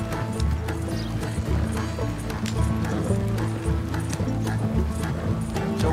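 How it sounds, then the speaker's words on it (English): Horses' hooves clip-clop steadily in Red Dead Redemption 2, a continuous loud rhythmic trot of a team pulling along a road, with wheel and tack rumble beneath. "Slow down, you'll burn out the horses."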